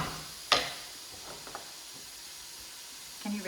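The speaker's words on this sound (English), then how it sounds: "Let's let those onions soften off a little." Onions softening in a pan for Spanish risoni, a faint low hiss and sizzle with a sharp clink near the start and a few soft clicks, quiet and close.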